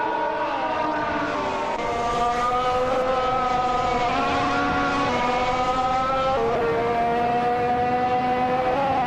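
Several Formula 1 engines, among them a Williams FW36, whine together at steady high pitch in a racing video game, their tones rising and shifting as gears change, loud and continuous with no talk.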